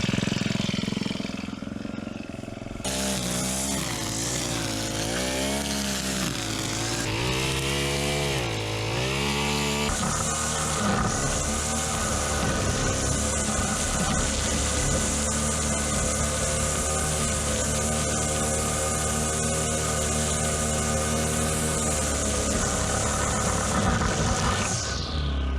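A Honda string trimmer engine pulled to life, coughing and surging unevenly for several seconds before settling into a loud, steady high-revving buzz that runs on and cuts off at the end, with no voices.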